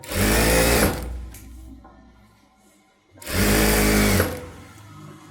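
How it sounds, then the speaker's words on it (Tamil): Sewing machine stitching a straight seam on blouse fabric, two loud steady bursts of rapid motor-driven stitching, each about a second long, separated by a quieter pause. "ஒரே ஸ்ட்ரெயிட்டாக ஒரு தையல் போட்டுருங்க"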